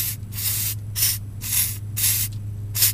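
Penetrant sprays from an aerosol can onto the transmission plug of a Mazda Miata in five or six short hissing bursts over a steady low hum.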